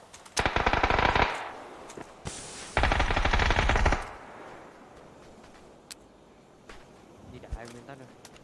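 Two long, loud bursts of rapid automatic gunfire in a shooting video game, each lasting about a second, are followed by scattered quieter shots and game sounds.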